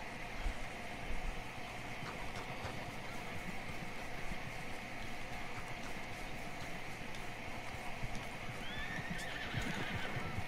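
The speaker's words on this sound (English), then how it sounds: "Oh wait, where did that horse come from?" Horse neighing and hooves clip-clopping in Red Dead Redemption 2 near the old Blackwater camp, steady hoofbeats under continuous game ambience with a whinny rising toward the end.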